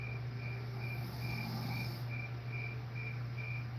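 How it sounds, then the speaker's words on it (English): Steady cricket chirping repeats in a regular pulsing rhythm over a constant low hum, continuous and moderately loud throughout, with no voices. "Where my damn crickets?"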